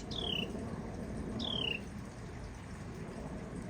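Birds in a backyard garden give two quick, bright, descending chirps about a second apart, heard clearly over a steady outdoor background of trickling water.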